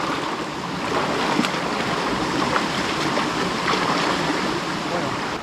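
Stream water flowing steadily in a natural creek, a continuous close, fairly loud broadband rush and gurgle with no breaks across the whole span.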